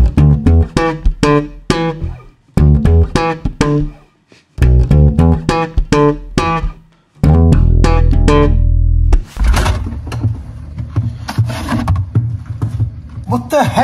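A bass guitar plays a beginner slap bass riff with an open E slide left ringing, sharp percussive slapped and popped notes in quick bursts with short gaps, close and loud, then a final ringing stretch.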